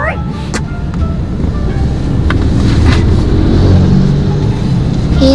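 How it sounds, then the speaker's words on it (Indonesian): Busy road traffic with many motorbikes and cars passing, a steady rumbling wash of engines close by with no single vehicle standing out. "Tuh banyak motor-motor, banyak mobil-mobil."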